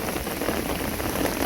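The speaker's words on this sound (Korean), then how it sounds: "지금도 이제 소나기가 좀 더 거세지는데" Steady rain shower hissing on surfaces outdoors, dense and continuous at moderate loudness, with no voices over it.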